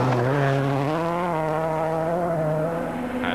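Peugeot 206 WRC rally car at the 2003 Rally Finland, its engine roaring loud and close on thick gravel, pitch climbing steadily through the gears as it's pushed hard down a straight.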